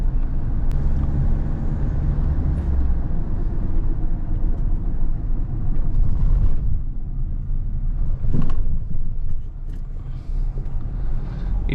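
Mahindra XUV 700 AX7L diesel with manual gearbox driving along, a steady loud low engine and road rumble throughout with a brief swell near the end.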